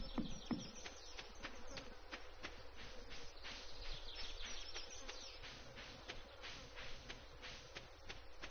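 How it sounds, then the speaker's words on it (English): Summer ambience from the Stardew Valley video game, with steady fly and mosquito buzzing in the foreground and soft, faint chirps scattered through it, continuous for the whole stretch. "I dislike how accurate the sound of summer is with the fly and mosquito buzzing."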